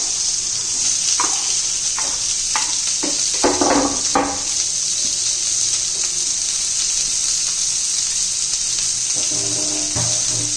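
Onions fry in oil in a pan with asafoetida, curry leaves and chillies, giving a steady bright sizzling hiss, broken by a few close scrapes and stirring knocks early on.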